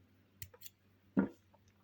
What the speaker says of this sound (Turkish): Bir zincir ipimi kesiyorum.